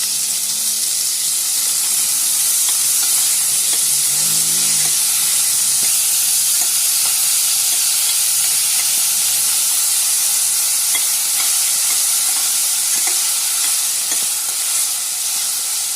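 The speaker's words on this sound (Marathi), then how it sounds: "कांदा टमाटा आपल्याला नरम करून घ्यायचा, शिजून घ्यायचा आहे." Onion and tomato frying in a pan for a bottle gourd (dudhi) curry, giving a steady close sizzle and hiss throughout with occasional stirring scrapes, no talking.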